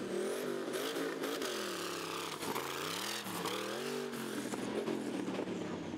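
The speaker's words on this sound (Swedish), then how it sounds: "Wow, det är dragracing med traktor." V8-powered BM Volvo Buster tractor with a 6-litre twin-turbo engine revving hard at a tractor drag race in Sweden, loud and close, the engine note rising and falling repeatedly at high revs.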